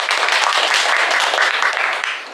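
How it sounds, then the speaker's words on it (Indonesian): An audience at an indoor gathering claps in a steady, dense burst for about two seconds, then the applause fades as it tails off. "Boleh saya minta tepuk tangannya?"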